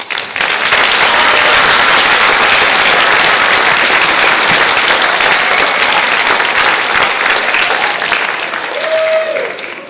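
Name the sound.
audience applause at school event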